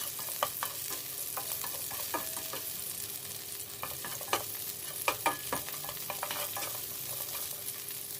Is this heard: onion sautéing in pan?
yes